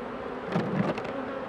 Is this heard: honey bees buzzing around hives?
yes